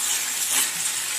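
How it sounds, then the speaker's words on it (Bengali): Vegetables for a bottle gourd stem curry frying in a pan, a soft, steady sizzle with light crackle throughout, heard alone. "সবজিটি খুব ভালোভাবে ভাজা হয়েছে"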